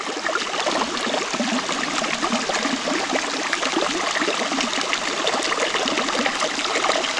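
Gurgling woodland stream flowing over granite stone, a steady close rushing and bubbling wash of water without pause.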